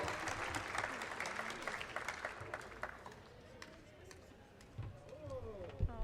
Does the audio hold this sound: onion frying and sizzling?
no